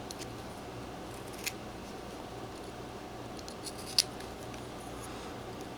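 Knife carving into a bar of soap while whittling a miniature doll, a few faint, brief scraping cuts heard close up over quiet background hiss.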